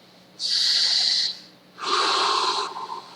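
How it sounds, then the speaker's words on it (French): Two long, forceful breaths drawn sharply through the nose, each lasting about a second with a short pause between, close and loud with no talking. "le simple fait de prendre une bonne inspiration"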